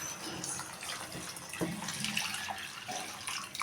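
Chickpea cooking water poured into rice for chickpea pulao, a steady close splashing flow running continuously without talk.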